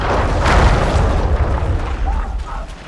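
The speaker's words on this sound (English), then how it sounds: "Those trebuchets are fucking pounding the pulp out of them." Deep booming trebuchet impacts in The Witcher 2 rumble repeatedly through a dense, noisy battle din, with voices talking over the steady low roar.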